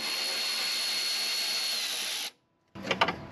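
A power tool loosens a 10 millimeter bolt on a Toyota FJ Cruiser during a transmission cooler installation, a steady loud whir that stops abruptly, then a short burst of ratcheting spin after a brief silence.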